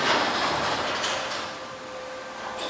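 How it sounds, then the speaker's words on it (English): LiftMaster 8550 opener moves a 9 by 8 Clopay garage door, a fairly loud, steady mechanical whir with a sustained hum that eases slightly midway. "A little loud with the 8550 door opener, which is pretty quiet."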